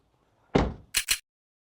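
Driver's door of a Hyundai Ioniq 9 electric SUV shutting with one solid, muffled thunk, followed by two short sharp clicks, close and clear in an otherwise quiet setting.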